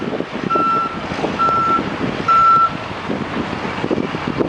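A front loader reverses in a snowstorm, its backup alarm giving three loud, evenly spaced beeps over a steady engine rumble and wind noise.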